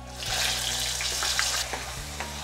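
Tomato puree hitting hot oil with whole spices in a pan gives a loud, steady sizzle throughout, with a couple of brief stirring knocks near the start and end.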